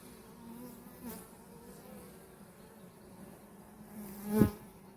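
Honeybees hum softly at an opened hive in a forest apiary, a faint steady drone with a few individual bees buzzing closer past, one passing loudly near the end.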